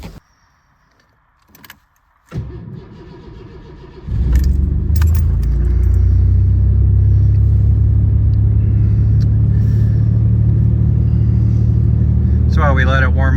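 A 1986 Mercury Cougar with a 3.8L V6 on a cold start in a garage: keys jangle, the starter cranks, and the engine catches into a loud, steady, raised idle that runs on, with a brief chirp near the end.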